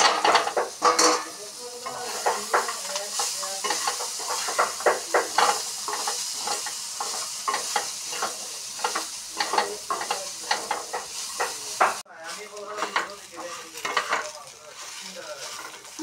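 Crab curry with crushed jackfruit seeds frying in a pan, loud steady sizzle broken by repeated rhythmic scrapes and clatters of a spoon stirring against the metal, with a brief pause near the end before the stirring resumes.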